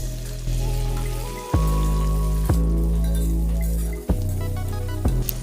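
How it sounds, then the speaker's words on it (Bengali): Tomato and onion fry in a pan with a steady, close sizzle, broken every second or so by sharp scrapes and clinks of stirring. "পেঁয়াজটা এরকম হালকা লাল হয়ে আসলে অর্ধেক রেখে দেওয়া টমেটোটি ভেজে নেব"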